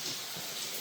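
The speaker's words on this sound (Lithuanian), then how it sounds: "Nuo kiekvieno spygliuko lyja" Rain dripping steadily from pine needles outdoors, a soft continuous patter of drops close by with no talk.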